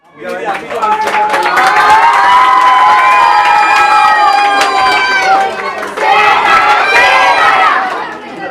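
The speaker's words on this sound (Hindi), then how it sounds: "सभी लोग जोरदार तालियां बजाएं।" A crowd at a local political gathering in Govandi ward, cheering, shouting and clapping loudly and continuously, with a short dip before the noise swells again.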